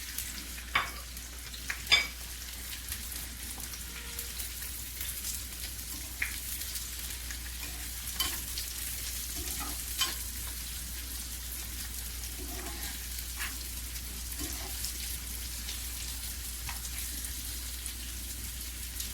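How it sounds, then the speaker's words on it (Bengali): Chopped onion and coarsely cut garlic fry in a pan toward a light golden colour. A faint, continuous crackle runs throughout, with occasional sharper pops and spits. "পেঁয়াজ রসুন হালকা গোল্ডেন কালার করে ভেজে নেব।"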